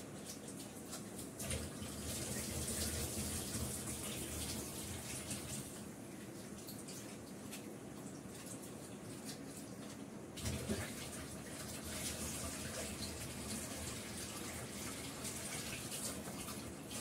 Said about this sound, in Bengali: চিড়েটা পরিষ্কার করে ধুয়ে নিলাম।